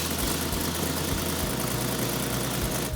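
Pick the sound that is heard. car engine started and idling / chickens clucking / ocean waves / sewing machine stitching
car engine started and idling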